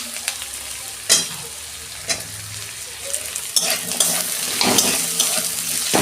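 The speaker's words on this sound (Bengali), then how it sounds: "আলুগুলো দিয়ে আমি একটু ভেজে নেব।" Potatoes and onions sizzle steadily in a hot pan for a Bengali fish-head cabbage dish, with a few sharp scrapes and clinks of a spoon stirring through the loud, continuous frying hiss.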